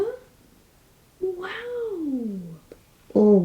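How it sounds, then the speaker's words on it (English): A needy house cat meows insistently at close range, a long wavering cry followed by a short sharp one, loud and alone in a quiet room. "We have a very needy kitty here."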